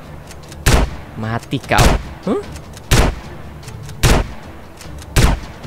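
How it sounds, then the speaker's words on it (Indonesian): Shotgun blasts aimed at a snake in GTA San Andreas, five sharp loud booms spaced roughly a second apart, with a voice speaking between the first shots. "Oke, kita bakal pakai shotgun aja seperti biasa."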